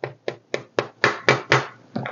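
A small hammer taps a retaining pin into a sword handle, about nine sharp, evenly spaced knocks that grow slightly heavier toward the end, close and dry with no talk.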